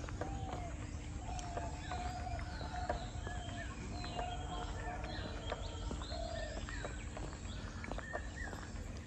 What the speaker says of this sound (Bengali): তুমি দেখো কতটা নিস্তব্ধ, আর কি সুন্দর শুধু পাখির আওয়াজই আছে